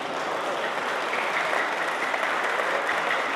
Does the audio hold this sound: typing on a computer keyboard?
no